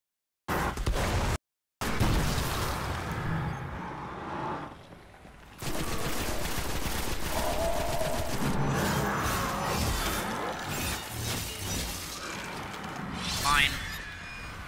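Gunfire in the video game Destiny, with rapid bursts and scattered shots plus crashing, shattering impacts that run steadily through a long, busy stretch under speech, after a few abrupt cuts at the start.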